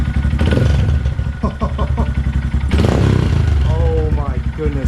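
Loud, close idle of a Honda Grom with a Yoshimura exhaust, a choppy rhythmic burble with small throttle blips, while someone talks over it.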